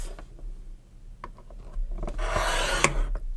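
A scoring tool drags across card stock in a few quiet scratches and taps, then a longer, louder rasping stroke near the end, close and alone.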